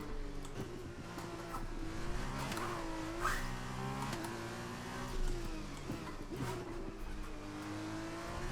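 Formula 2 race cars in the F1 2021 video game at the Azerbaijan Grand Prix street circuit scream past, their engine notes rising and falling in pitch through continuous loud revving, with brief tyre squeal and no talk.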